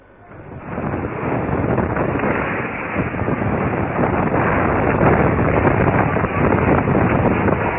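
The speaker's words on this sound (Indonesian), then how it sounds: "rekaman video amatir angin kencang selama 5 menit menerjang Stasiun Pengisian Bahan Bakar Umum atau SPBU di Ngampin" Strong wind lashing a petrol station in Ngampin, a loud, steady roaring rush with buffeting gusts battering the microphone, rising after a quieter start and holding for several seconds with no voices.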